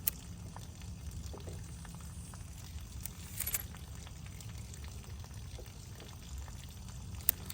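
Water trickles and gurgles steadily inside a sewer pipe, a low continuous bubbling wash with a few faint clicks and knocks, heard close up with no talking.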